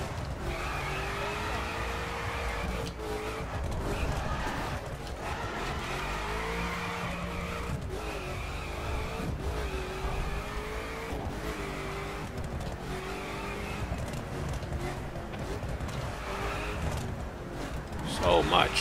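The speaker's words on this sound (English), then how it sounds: "have to brake to get into a good drift on these corners" A Koenigsegg Agera R sliding through city corners amid traffic in The Crew, its engine droning and rising continuously while tires squeal intermittently through the drifts, loud and steady throughout.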